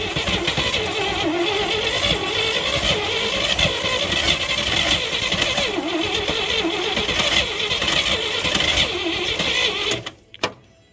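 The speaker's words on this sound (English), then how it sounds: "I just put the plug on and we're just going to see if it'll start" A 1967 International 1200 truck, dosed on the choke plate in an Alaskan winter, cranks and sputters loudly and steadily for about ten seconds as it tries to start, then cuts off abruptly.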